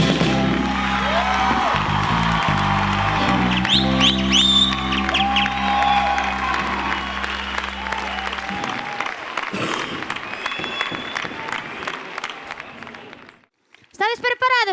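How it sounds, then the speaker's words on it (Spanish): Audience applause and cheering break out at a murga contest final in Pontevedra, rising as the loud band music ends and filling several seconds with dense clapping before cutting off abruptly. "y este aplauso es para ustedes de la murga Equipo K."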